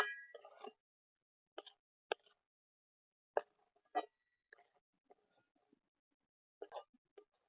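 Sugar being stirred into a raw mango jelly mixture gives scattered wet plops and soft scraping clicks in a pot, sparse and fairly faint with quiet gaps between strokes.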